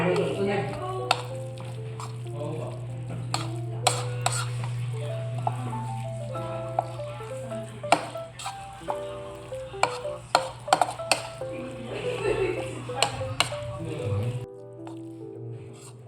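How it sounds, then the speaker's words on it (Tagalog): Spoon stirring and mixing fresh tuna sisig in a pan, with wet squishy scrapes and clacks over a low sizzle, recurring irregularly at close range for several seconds. "Ito, hinahalo-halo ko na depende kung gaano katagal gusto mong haluin."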